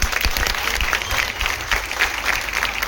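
An audience claps for a performer at a Shri Ram Cup event run by a local youth group, with dense, sustained applause filling the whole stretch and a faint crowd murmur beneath.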